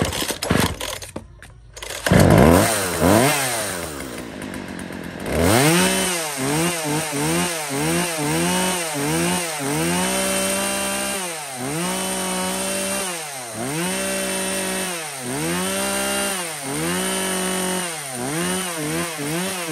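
A used Japanese-import chainsaw engine starts, then idles and revs loudly and close in repeated rising and falling bursts.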